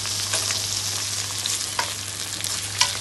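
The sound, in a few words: tomatoes frying in a pan for fish curry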